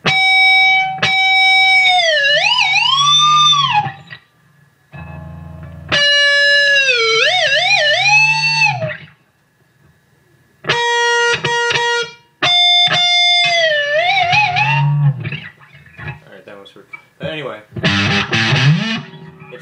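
Electric guitar with heavy distortion, notes swooping down and back up in pitch like whammy-bar dives, played in bursts between pauses, with brief talk near the end.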